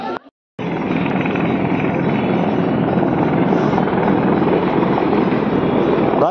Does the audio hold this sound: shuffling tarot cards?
no